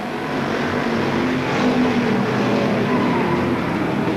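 Race cars roaring off together on the green flag at Seekonk Speedway, a dense, loud engine drone swelling slightly midway and holding steady, with no voices.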